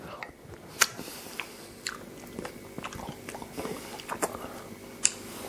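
Crisp bites and chewing of a mixed salad dressed in creamy homemade balsamic dressing, with several sharp crunches spread across a close, quiet mouth-noise background.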